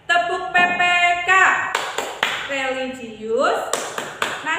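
Children's voices chant in unison in a classroom, broken by sharp rhythmic claps in quick bursts, loud and close.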